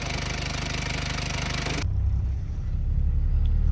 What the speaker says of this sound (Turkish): Düz dizel araba ama alttan bir yatak sesi gibi bir ses var